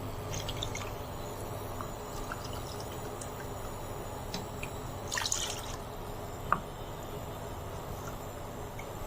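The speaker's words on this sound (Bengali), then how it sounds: "গাজরের স্যুপ তৈরি করার জন্য প্রথমে আমি দিয়ে দিচ্ছি তিন কাপ পানি" Three cups of water are poured into a cooking pot to start a carrot soup, giving a steady, moderately quiet splashing with a few brief drips and small splashes near the end.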